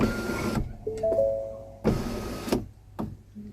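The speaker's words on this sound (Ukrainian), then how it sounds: "тепер тиснемо на закриття люку і тримаємо" Ford panoramic sunroof motor closing, heard as short whirring electric bursts with brief stops and jerks, separated by quiet gaps and sharp clicks.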